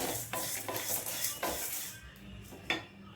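Curry leaves are stirred and roasted in a pan for temple-style tamarind rice. A spoon scrapes and clanks against the metal in several sharp strokes over a faint sizzle, then the sound tapers off.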